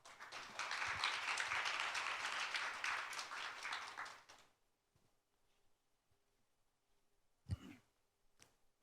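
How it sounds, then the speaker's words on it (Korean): Applause from a conference audience welcoming a presenter, a dense clapping wash for about four seconds that stops abruptly, leaving a quiet room with one brief thump. "큰 박수로 맞아주십시오."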